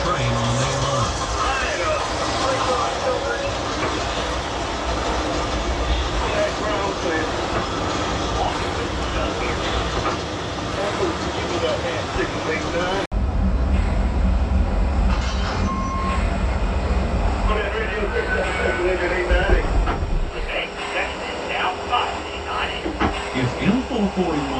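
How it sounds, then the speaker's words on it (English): Lionel model train running on a temporary layout, a steady whirring rumble of the small locomotive and cars on track, continuous and fairly close, with a brief break partway through. "M441 is pulled down and out of the yard and is now returning to his train on the main line."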